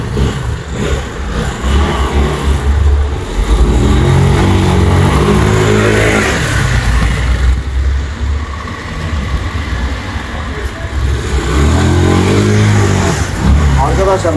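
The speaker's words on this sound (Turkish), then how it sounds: "Bu motorun bloğu falan yeni olduğu için ufak bir ses geliyor ilk çalıştırma aşamasında" A Honda Spacy 110 scooter with a freshly replaced engine block runs loud and close, its engine note rising and falling as it revs and settles, with talking over it.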